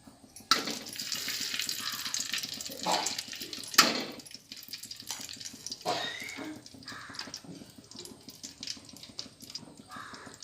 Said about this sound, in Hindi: अब मैं उसमें घी डालूँगी।